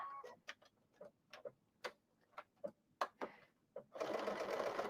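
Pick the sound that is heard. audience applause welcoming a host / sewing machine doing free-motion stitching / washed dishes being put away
sewing machine doing free-motion stitching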